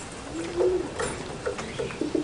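Pigeons coo softly in a loft, with several low, repeated coos over a steady background hiss and no speech.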